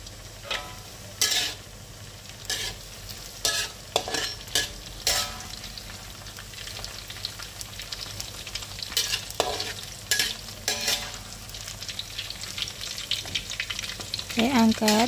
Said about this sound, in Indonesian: Selanjutnya akan aku goreng tempenya.